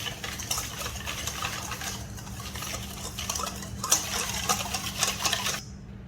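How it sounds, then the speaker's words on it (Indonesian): A spoon or whisk stirs Bika Ambon batter with added water in a bowl, making close, continuous wet swishing and light scraping against the bowl with occasional clinks, with no voices. "Aduk jadi satu, lalu masukin air,"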